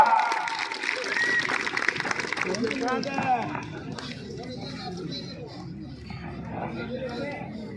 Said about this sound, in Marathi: कुस्ती आवडल्यानंतर वाजवा की टाळ्या वाजवा